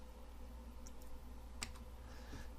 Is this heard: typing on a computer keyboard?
yes